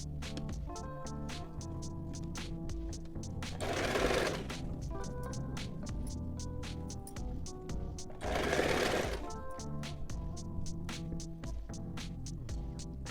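A sewing machine stitches a kurti neckline with a rapid, steady mechanical chatter that runs continuously, twice swelling briefly into a louder burst of fast stitching, close and clear with no talking.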